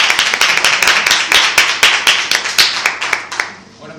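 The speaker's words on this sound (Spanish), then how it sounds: "os pido que le demos un aplauso" An audience at an indoor meeting gives a short burst of applause, a dense patter of claps that rises briefly and then fades out within a few seconds.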